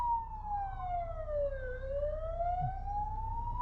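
Police car sirens in a video game, a single wailing tone sweeping down then back up over a steady low engine-like rumble, loud and close with no talk.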